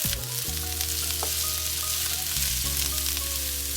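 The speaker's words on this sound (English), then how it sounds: "So I'm going to add the curry leaves minced." Minced curry leaves frying in hot oil in a pan, a dense, steady sizzle heard up close and loud, with a low hum from the stove underneath.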